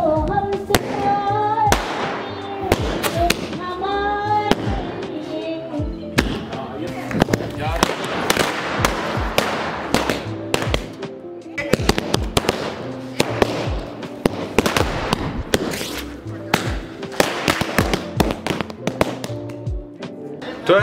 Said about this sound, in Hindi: तो चलो दोस्तों पहले लड़ी जलाते हैं, अपन लड़ी से चालू करते हैं।